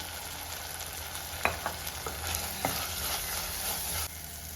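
Tomatoes frying in oil in a pan for Kerala-style tomato curry: a soft steady sizzle with a few light stirring clicks and scrapes, quiet and close, with no talking.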